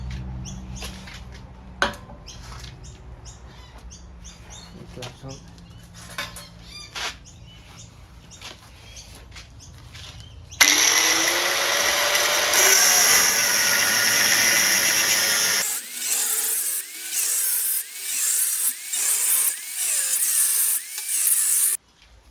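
Tool cutting through the exhaust silencer of a Triumph Bonneville Bobber, with a loud, harsh grinding burst of about five seconds following quieter clicks and handling noises, then a softer intermittent whir.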